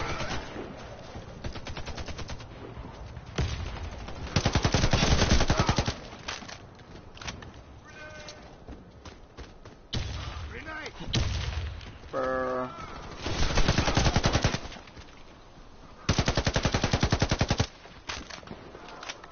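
AK-9 machine-gun fire rattles out in a video game, with several loud sustained bursts separated by quieter gaps and brief speech in between.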